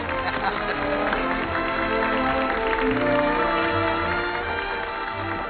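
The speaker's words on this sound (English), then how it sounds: "Listen to that applause." Applause from an audience in a 1946 musical film scene, a steady wash of clapping that runs through the whole stretch, mixed in with music and people talking.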